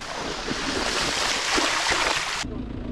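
A gravel bike crosses a deep, rocky river, with a loud, steady rush of splashing water that cuts off abruptly near the end.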